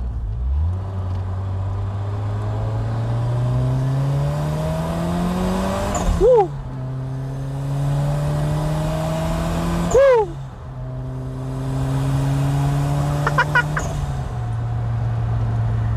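A turbocharged BMW E30 318i with an M40 engine accelerates hard through several gears, its engine note rising steadily, then dropping sharply at each shift around six and ten seconds, loud and close with no talk.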